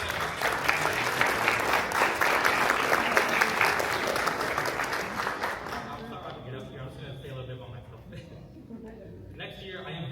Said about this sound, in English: Can you please get a hand of applause for all of you, please?